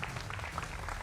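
Studio audience applause on a televised debate show, a brief, faint burst of scattered clapping over a low rumble of room noise.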